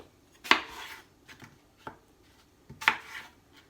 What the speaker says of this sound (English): So you're going to cut the apple.